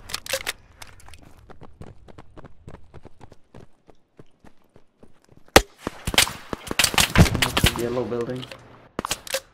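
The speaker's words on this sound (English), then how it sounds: "Oh, I'm getting shot at again." Rapid gunfire rattles throughout a tactical shooter video game round, dense bursts of sharp shots and impacts close at hand, growing heavier toward the end, with a player talking over parts of it.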